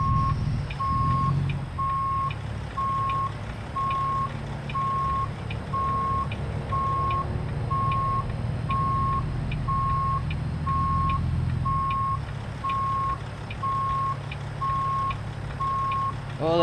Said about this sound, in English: Oh, that beeper has got to go.